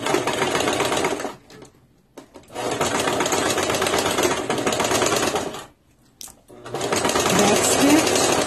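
A sewing machine stitches a shoulder seam on a top in three loud, steady runs, each a rapid even whirring buzz, separated by short pauses that include a brief click.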